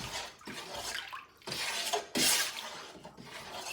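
Water being stirred by hand in a bucket of about two gallons with herbs, giving bursts of sloshing and splashing in uneven strokes, close and fairly loud, with no talking.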